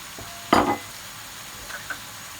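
Peppered pot lamb with bell pepper, garlic powder, black pepper and all-purpose seasoning stirred in a pot, one short, close scrape and sizzle followed by a couple of faint clinks, with no talking.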